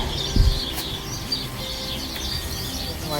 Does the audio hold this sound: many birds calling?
yes